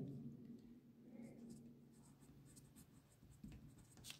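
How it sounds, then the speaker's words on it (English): Pen writing a name on a paper worksheet in a classroom setting: a steady, close scratching of strokes running through the whole stretch, with small pauses between letters and no talking. "So, write your name. Just like I write my name here."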